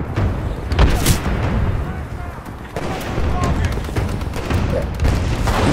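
Dense, continuous gunfire from the video game Titanfall 2, with rapid overlapping shots and heavy booms filling the whole stretch at close, loud range.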